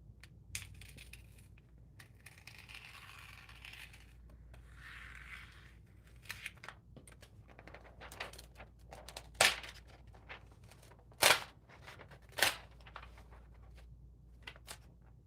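Scissors cutting out paper pieces for a collage, close, quiet snips and paper rustling in irregular bursts, with a few sharper clicks standing out against a faint background.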